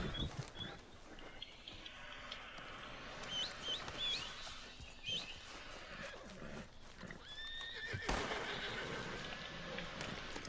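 A horse in the Red Dead Redemption 2 video game neighs and whinnies several times over a busy outdoor game soundscape, with faint hoof clip-clops and rustling underneath.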